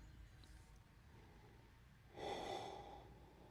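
A person yawns quietly in a near-silent room, letting out a single airy, breathy exhale that swells near the end.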